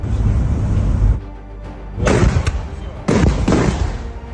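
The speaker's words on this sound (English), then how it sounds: "the Russians caught one of such bombardments on camera" HIMARS rockets strike, filmed by Russian troops: a few heavy booming blasts break over loud, rumbling wind-buffeted noise, close and harsh.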